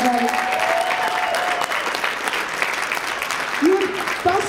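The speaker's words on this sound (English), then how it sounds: "All right, give these guys a round of applause, everybody." Sustained, loud applause from a large crowd at an anime convention's closing ceremony, steady throughout, with a voice briefly audible over the clapping.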